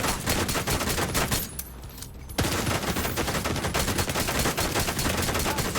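Rapid automatic gunfire in The Division 2 rattles on loud and close in dense bursts, with a brief pause during a reload before the shooting resumes.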